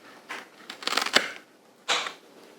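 A pothos stem is snipped about half an inch below the node, giving a few short, crisp close-up cuts and rustles in quick succession.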